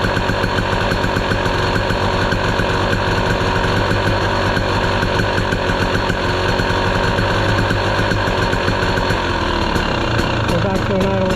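A 2023 KTM 300 XC two-stroke dirt bike running close by with a dense, buzzy engine note under light throttle, holding fairly steady and shifting slightly near the end while someone talks over it.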